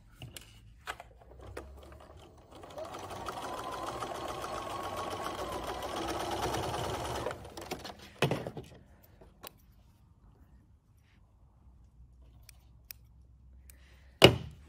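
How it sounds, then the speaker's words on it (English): A sewing machine stitches darts on a first responder face mask, running in a steady close whir for several seconds, followed by quiet handling sounds and a sharp clack at the end. "I'm going to put them together and I'm going to just sew the darts."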